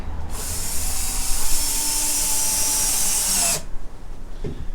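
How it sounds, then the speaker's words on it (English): A power screwdriver drives a screw into a wooden beehive box while winterizing the hive, one steady high whir lasting about three seconds close by, then stopping with a faint clunk. "I like to use a power screwdriver."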